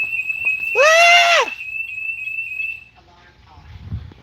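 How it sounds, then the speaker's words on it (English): A shrill electronic alarm tone sounds steadily near an aquaponics koi pond, loud and sustained for a few seconds. A person's brief startled exclamation cuts in over it, and then the alarm stops. "Forgot to turn the alarm off."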